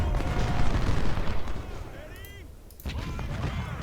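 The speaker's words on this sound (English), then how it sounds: "And howitzers open up on the cavalry under Blake." Howitzer artillery fire in Ultimate General: Civil War during the Rio Hill battle: deep booms and crackling gunfire roll across the field, fading briefly before another heavy blast breaks in.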